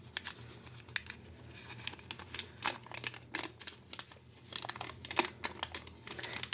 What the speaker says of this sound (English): And you just peel it off like this, carefully, so you don't rip where you cut.